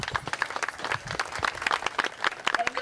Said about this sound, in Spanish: Un aplauso para el payaso Tapete.